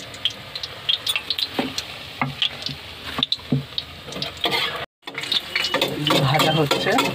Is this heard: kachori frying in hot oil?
yes